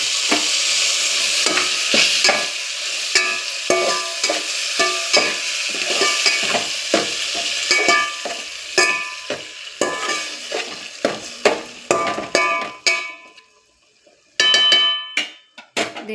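Spiced paste stirred into gongura (sorrel leaf) pulao in a pan, a spatula scraping and clinking in quick repeated strokes over a steady close sizzle, with a brief lull near the end.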